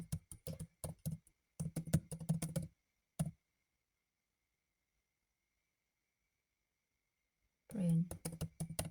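Computer keyboard tapping while programming code is typed, in short clusters of crisp keystrokes, then a long silent gap before another brief burst.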